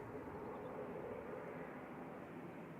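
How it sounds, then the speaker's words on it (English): An ATR 42-500 turboprop airliner departing Manchester Airport gives a steady, moderately distant rumbling drone that holds level and unbroken throughout, with no speech over it. "I assume this is LMRA departing again back to Inverness with flight 598, ATR 42500."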